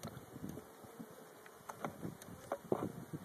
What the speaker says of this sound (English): these are Italian bees